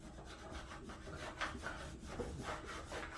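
Dry wax rubs back and forth across a snowboard base in short, quiet, scratchy strokes, a soft close-up friction sound repeating unevenly.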